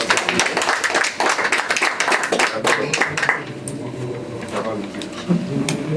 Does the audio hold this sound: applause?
yes